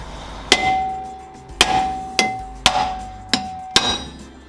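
Sharp metallic hammer taps on a seized rear brake drum of a 2011 Toyota Corolla, six ringing clangs at uneven intervals, each leaving a short resonant ring, close and loud with no talking.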